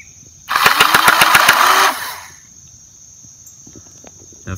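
A Nerf Rival Uzi blaster fires a rapid full-auto burst of about a dozen sharp mechanical shots over roughly one and a half seconds, loud and close, then stops and leaves a faint whine.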